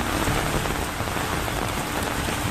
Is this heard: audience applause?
no